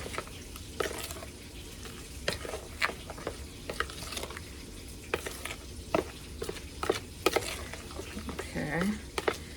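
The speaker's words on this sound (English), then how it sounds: "So now I'm gonna gently stir this." A butter mixture in a pot is stirred gently, with a low bubbling sizzle under repeated soft clicks and scrapes of a utensil, and a faint voice briefly near the end.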